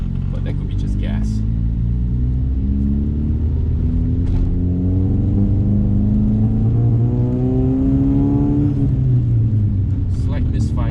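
A car engine with a slight misfire idles and revs with a low, throaty growl, rising and falling in pitch over several seconds, close by and steady.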